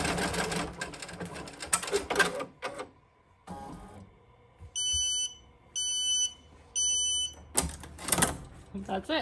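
A Ricoma EM1010 embroidery machine sews its final stitches, bursts of rapid mechanical chatter broken by three evenly spaced electronic beeps, with handling noise before and after.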